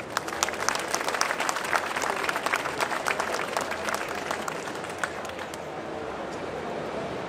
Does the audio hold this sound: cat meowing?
no